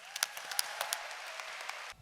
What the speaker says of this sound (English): I'd like you to give her a really warm round of applause,